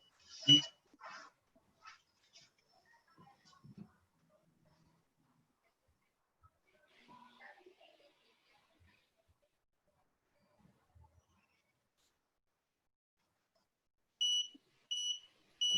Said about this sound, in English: Put the buzzer on pin 12 physically.